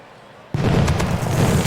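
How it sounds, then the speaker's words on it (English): A sudden burst of home run fireworks in the baseball game Out of the Park Baseball 21 erupts after a quiet moment, with crackling pops and booms continuing loudly to the end. "Here come the fireworks."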